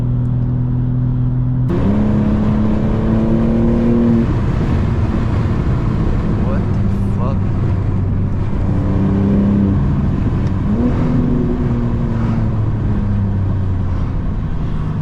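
A G80 car fitted with a catless downpipe exhaust, close and loud, idling with a deep drone before sharp revs rise and fall in several rasping pulls over a windy background.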